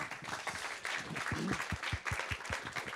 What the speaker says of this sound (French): je vous propose d'applaudir notre speaker